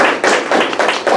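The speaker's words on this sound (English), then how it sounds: "Round of applause for her real quick" A short burst of close, dense audience clapping at a constituent event with a state representative, the claps coming in quick uneven pulses for just over a second with no voices over them.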